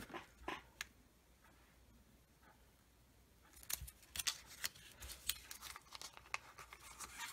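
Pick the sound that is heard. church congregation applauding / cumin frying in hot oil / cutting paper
cutting paper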